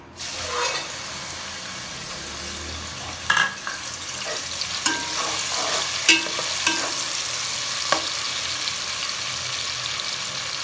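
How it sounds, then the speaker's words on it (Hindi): Onions frying in a pan for a black chana dish, a continuous close sizzle with intermittent clatter and scraping of stirring. "सबसे पहले प्याज डालें"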